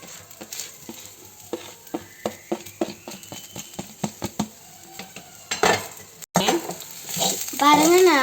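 Masala idli is stirred in a pan with a spoon, producing a rapid series of sharp metallic clinks and scrapes over a light frying sizzle, growing busier and louder toward the end.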